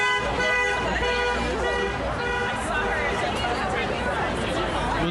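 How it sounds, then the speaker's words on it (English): Repeated car horn toots ring out over crowd chatter and traffic at a CDC staff walkout rally outside the Atlanta headquarters, several honks overlapping with steady babble of voices. "Hearing a lot of honking and support in the background."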